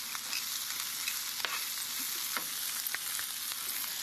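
Chili powder and smoked sweet paprika are stirred into meat frying in a pan, giving a steady, close sizzle broken by light scrapes and taps of the spoon.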